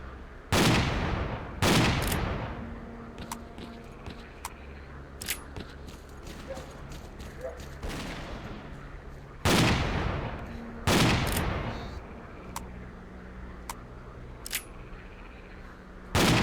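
Semi-automatic 9x19 pistol shots in S.T.A.L.K.E.R.: Clear Sky, in a swamp setting, several loud single reports spaced a few seconds apart with echoing tails and faint ambient sounds between them.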